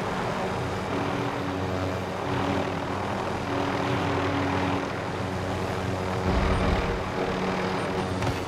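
Helicopter in the video game Call of Duty Warzone, a steady droning rotor and engine roar held at an even level throughout, with no voices over it.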